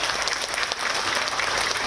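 An audience claps for Pak Agung Laksono in a loud, continuous round of applause from a large crowd, close and steady for the whole brief stretch.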